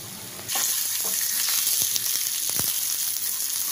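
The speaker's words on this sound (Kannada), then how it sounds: "ಇದನ್ನು ಒಂದು 2 ನಿಮಿಷ ಫ್ರೈ ಮಾಡ್ಕೊಳ್ಳೋಣ." Green chillies, chopped onion, ginger and garlic hit hot oil in a pan for a mixed vegetable kurma, bursting into a loud, continuous sizzle with a few stirring knocks, close up and without speech.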